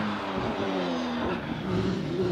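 A British Championship hillclimb race car at Doune climbs through the S-bends toward the tunnel, its engine note rising and shifting at moderate distance, a steady rasp heard alone.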